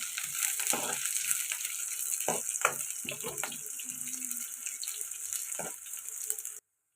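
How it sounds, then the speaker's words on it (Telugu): Freshly crushed garlic frying in oil for a tomato okra curry, a continuous close sizzle with scattered clicks and scrapes from stirring, fading out abruptly at the end. "ఇందులోకి పచ్చగా దంచుకున్న వెల్లుల్లి వేసుకోవాలండి"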